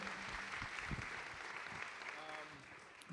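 Studio audience applause, a steady wash of clapping across a talk-show audience that holds fairly even throughout, with some voices mixed in.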